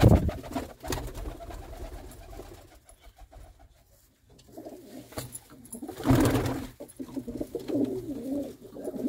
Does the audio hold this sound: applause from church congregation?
no